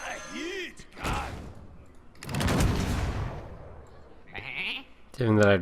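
Hearthstone game sound effects with a couple of short sheep bleats, loud and close, interspersed among bursts of noise and brief chirpy effects.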